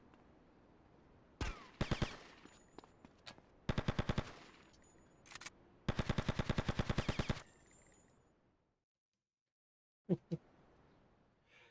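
Gunfire in the video game GTA Stories: repeated rapid bursts of automatic fire, short and long strings of loud, close shots separated by brief pauses, with a final short burst after a silent gap.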